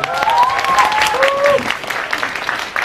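Audience applause at a K-pop girl group showcase, a loud burst of clapping and crowd noise that tapers off, with a voice speaking briefly over it.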